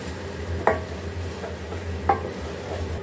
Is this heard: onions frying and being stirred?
yes